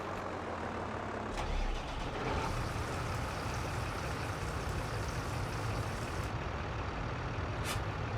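Truck air brakes in Farming Simulator 22 hiss with a sharp burst near 1.5 seconds, set against a steady, loud engine drone and broadband rumble that continues throughout with no voices.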